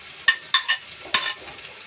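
Finely chopped onions hitting hot oil in a pan, a few sharp sizzling bursts with stirring scrapes between them, close and fairly quiet, with no talking.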